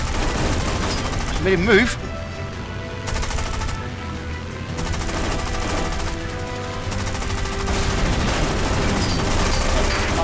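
Aircraft guns in the War Wings mobile air-combat game fire in dense, continuous rattling bursts over a roaring engine bed, while someone speaks briefly over the din.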